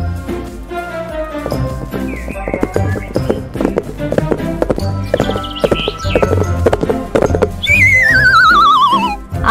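A horse whinnies amid lively children's song music, with clip-clopping hooves and tapping mixed into the busy backing; a long, loud warbling whinny stands out near the end.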